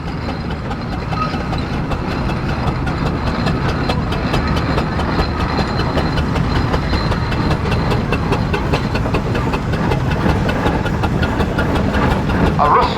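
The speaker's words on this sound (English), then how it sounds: "A Russon and Bronze traction engine owned by David Barnes from Papelwick." Russon and Bronze steam traction engine at a steam rally, running with a steady, loud mechanical chuffing and rumble throughout, with crowd and fairground noise around it.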